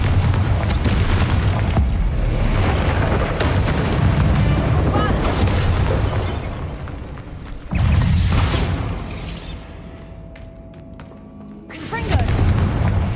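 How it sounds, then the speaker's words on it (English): Confringo fire spells in Hogwarts Legacy, played on PC, go off as several loud, deep booming blasts with rumbling tails, the largest near the start, middle and end, with a voice calling out over the bursts. "Confringo!"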